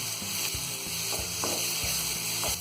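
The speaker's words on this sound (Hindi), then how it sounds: "अब इसी में डाल देंगे हम ये सारे ड्राई फ्रूट। थोड़ी देर और भून लेंगे।" Raw papaya halwa roasts in a pan with dry fruits added, a continuous sizzle close by with several sharp scraping stir strokes against the pan.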